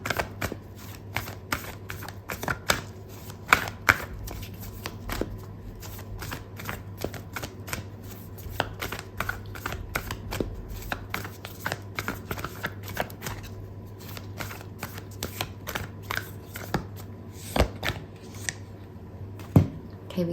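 Oracle cards are shuffled for a tarot reading, a long run of quick crisp riffling slaps and flicks, close and steady with brief pauses.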